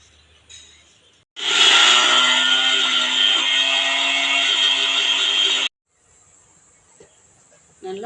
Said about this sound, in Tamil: இப்போ இந்த கீரையை நம்ம ஒரு மிக்ஸி ஜாரில் போட்டு நல்லா ஃபைன் பேஸ்ட்டாக அரைச்சி